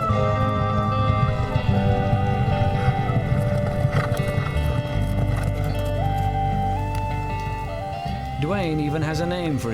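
Wild mustangs run in a mountain meadow, their hooves clopping and a horse whinnying, set under sustained musical tones with a wavering high call near the end.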